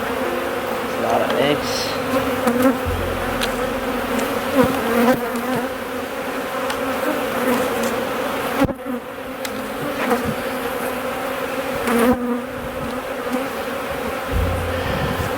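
A dense, steady swarm of honey bees drones loudly around an open brood box during a hive inspection, the buzzing continuous and close throughout while someone speaks briefly over it.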